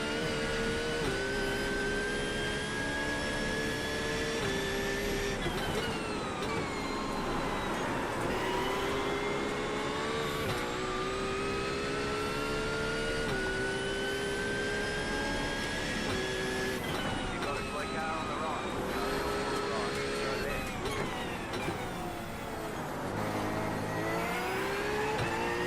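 In a racing video game, GT3 race cars at Oulton Park scream at high revs, loud and continuous, with repeated rising and falling pitch sweeps as engines rev and shift.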